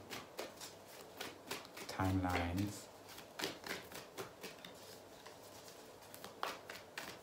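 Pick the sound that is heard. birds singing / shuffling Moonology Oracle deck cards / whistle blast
shuffling Moonology Oracle deck cards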